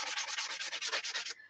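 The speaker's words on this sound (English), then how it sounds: "And now I'm like sanding it off roughly." Paint is sanded off a wooden door hanger in about a dozen quick, even back-and-forth strokes, close and crisp, before the scratching stops.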